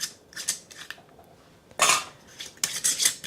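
Several short metallic clinks and scrapes come in bursts with quiet gaps between, like metal rings being twisted and lifted off glass jars close by.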